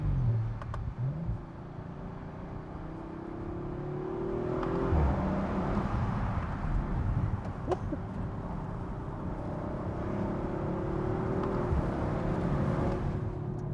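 A 2021 Audi RS5 engine hums steadily from inside the cabin, its pitch rising and falling as it accelerates, with low road rumble underneath.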